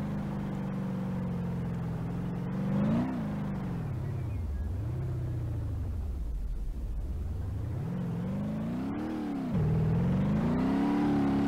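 A supercharged Jeepster with a stage one supercharger on a smaller motor revs in BeamNG.drive, its engine climbing, dropping and sweeping through several loud, close rises and falls of pitch with a steady droning whir.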